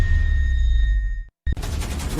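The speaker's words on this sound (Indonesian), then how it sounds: "Tungku meledak." A factory furnace explodes with a harsh, crackling blast burst after a steady hum, a brief dropout, then rough, noisy roaring debris.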